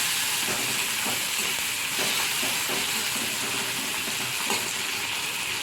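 Chopped tomato hits a hot pan of fried onions for egg tadka, giving a continuous sizzle with occasional scraping stirs, close and moderately loud.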